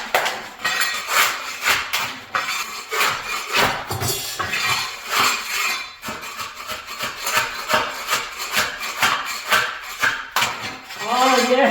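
A restored old hand tool, unsharpened, rips up flooring and carpet tack strip with dense, repeated scraping, tearing and clanking impacts that run loud and close throughout, with a brief vocal exclamation near the end.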